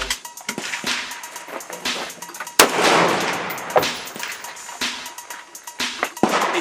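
Repeated gunshots at the Willow Slough outdoor shooting range, sharp cracks from several shooters at irregular intervals, some close and loud with a ringing tail, others fainter and farther off.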